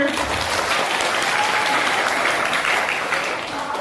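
An audience claps together in a dense, steady burst of applause lasting a few seconds, fairly loud and close, fading slightly at the end.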